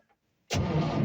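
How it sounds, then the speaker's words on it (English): A 1966 Chevy C60 truck engine with points ignition cold-starts after half a second of near silence, bursting loudly into a steady, close running roar that holds to the end. "Let's see if it cranks."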